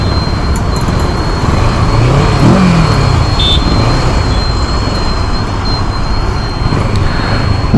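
A Kawasaki Versys 650 motorcycle rolls slowly through a tight U-turn, its engine a low, steady rumble mixed with road and wind noise, with no talking.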